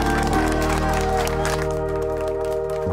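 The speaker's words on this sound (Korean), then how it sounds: "박수를 치며 환호합니다." Applause and cheering from citizens gathered in front of a TV as an impeachment motion passes in a vote near the National Assembly in South Korea: steady dense crowd clapping and cheers over a constant background that holds for the whole stretch.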